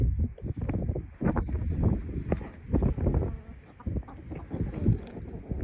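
Chickens cluck and squawk in a dense, busy burst of repeated short calls close by, with no talk over them.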